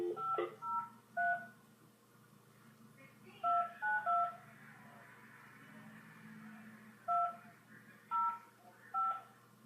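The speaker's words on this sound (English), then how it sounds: "So now I gotta redial it over again." A phone number is redialed on a telephone keypad, with several bursts of quick dual-tone beeps separated by short pauses, fairly faint over a quiet background hum.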